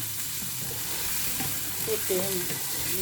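Chopped onion, chili and garlic fry in a little oil, giving a continuous close sizzle with stirring scrapes and a few brief tonal squeaks toward the end, no talking.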